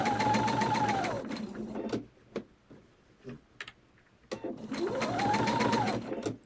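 A sewing machine runs in two steady bursts, stitching binding along the folded edge of a table runner, with quiet handling clicks and pauses in between.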